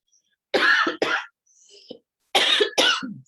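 Several sharp coughs close to the microphone, two quick ones, a short pause with a faint throat sound, then two more.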